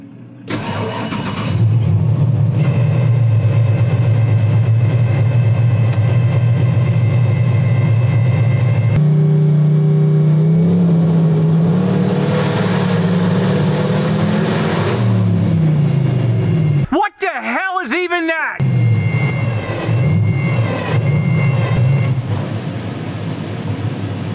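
A turbocharged 1,000-horsepower small block Ford V8 runs loud and close on a dyno, cranking to life then holding a deep rumbling idle with revs rising and falling, a brief cut-out, then running on.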